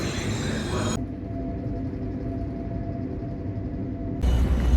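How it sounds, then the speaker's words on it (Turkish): Italian train pulling out of the station toward Bologna, a steady low rumble and rolling hum of the carriage heard from inside, with louder bursts at the start and end. "şu an tren istasyonundan çıkış yaptık"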